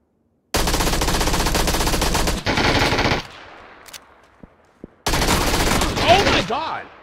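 An MG3 machine gun in the PUBG video game fires long, loud continuous bursts that break off into scattered single shots, then resume in another heavy sustained burst.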